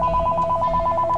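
A telephone rings with a rapid, steady electronic trill, loud and close, repeating evenly throughout with no voices.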